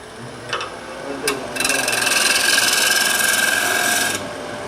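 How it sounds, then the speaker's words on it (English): A wood lathe turning a plate sets off a steady, close, rasping whir that starts abruptly, holds for under three seconds, then cuts off, preceded by a couple of brief knocks. "I'm going to start the lathe slow and bring it up."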